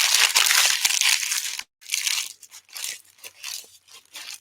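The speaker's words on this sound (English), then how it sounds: "And I'm just wadding it into a ball." Painter's masking paper is crumpled and wadded into a ball, loud crackling crinkles first in a dense burst, then in shorter separate crunches close to the microphone.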